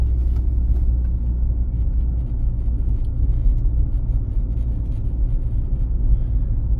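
A car drives a city exam route with a steady low engine and road rumble from inside the cabin, continuous and even with no talking.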